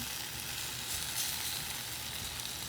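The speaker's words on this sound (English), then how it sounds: "You can hear that sizzle." Mushrooms and onions sizzle steadily in a hot pan, a continuous bright crackling hiss at moderate volume with no voices.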